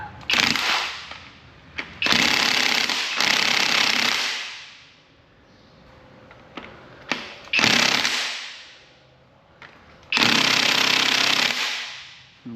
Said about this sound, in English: Got our 18 millimeter impact socket with our heavy duty impact.